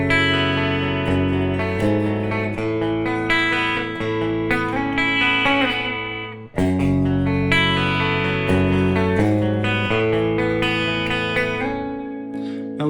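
A PRS Core singlecut electric guitar strums simple sustained chords, ringing clean and full with a brief break midway before the chords resume.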